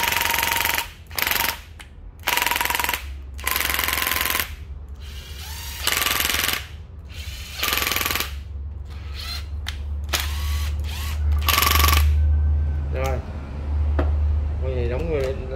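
Japanese cordless drill, model 6916D, runs in repeated loud bursts with a hammering rattle, separated by short pauses and a low background hum, with someone talking between the bursts.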